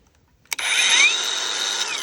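Mellif cordless angle grinder on a DeWalt 20 volt battery switching on at speed setting 3, a sharp start followed by a loud, steady high-pitched whine held alone close by.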